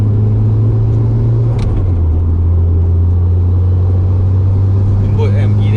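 A turbocharged Mitsubishi Evo 3 CE9A with all-wheel drive rumbles steadily from inside the cabin, a loud low engine drone that shifts pitch once, with a voice talking over it.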